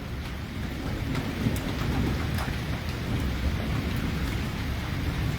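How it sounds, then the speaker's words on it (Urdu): Thunderstorm with rain in Islamabad, a steady dense hiss of rainfall with low rolling rumble underneath and occasional sharper drops, continuous and fairly loud, no talking. "بس گرج چمک جاری"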